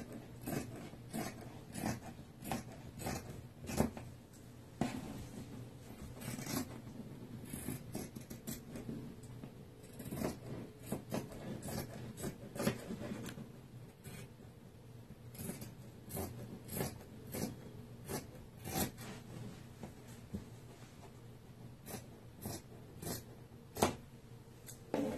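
Scissors cut out a sewing pattern piece from fabric for a first top, with steady repeated snips and rustling cloth close by, continuing in an irregular rhythm throughout.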